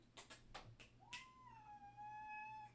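A cat meows once, a drawn-out rising then level cry, close by, preceded by a few soft clicks and rustles in a quiet room.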